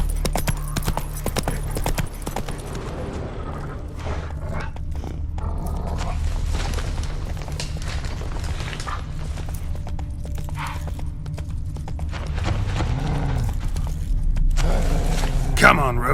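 Roach the horse gallops in The Witcher 3: Wild Hunt on PlayStation 5, a steady clip-clop of hooves running under continuous game music and ambience, with a voice urging the horse on.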